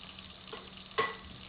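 Chopped cashews and almonds fry with ginger and garlic in a pan for chicken biryani, making a soft, steady sizzle with one sharp utensil clink partway through.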